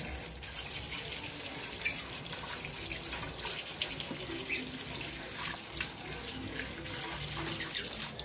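Water from a DIY hose sprayer rushes steadily over a Yamaha Mio i 125 motorcycle magneto during cleaning, a continuous close hiss and splatter with small splashy bursts and no pauses.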